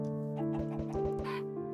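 Minecraft chickens clucking in a short run of soft, close chirpy calls over steady game music with sustained tones, no speech.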